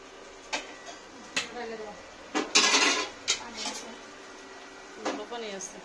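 Dal khichuri being stirred in a cooking pot at home, with scattered metallic scrapes and clanks of a ladle against the pot, a burst of louder scraping midway, and someone talking over it.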